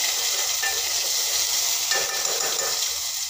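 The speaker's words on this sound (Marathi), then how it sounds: "आता आपण बनवलेली पेस्ट घालूया मसाल्याची. त्याला छान असं मस्त मी परतून घेते." Masala paste sautéing in hot oil with mustard seeds and cumin, a dense continuous sizzle close up with light stirring scrapes, no talking.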